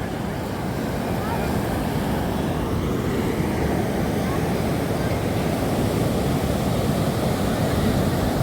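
Sea waves breaking on a beach during a family vacation trip, a continuous loud roar of surf with wind buffeting the microphone, steady from start to finish.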